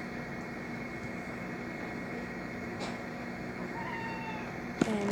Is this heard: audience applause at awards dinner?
no